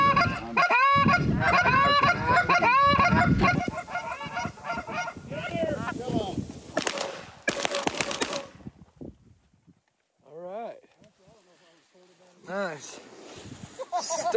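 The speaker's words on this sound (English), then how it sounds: "Get those geese. Here they come." Canada geese and other wild geese honk loudly and repeatedly as they fly in over a dry-field waterfowl hunt, their calls overlapping in bursts while hunters talk and call out beneath them.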